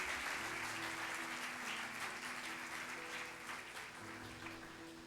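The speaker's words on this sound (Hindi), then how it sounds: "आइए हम अपनी तालियों में पास्टर साहब को वेलकम करते हैं" Steady, dense clapping fills a church hall as the congregation welcomes the pastor, loud and even throughout with a faint hum underneath and little else.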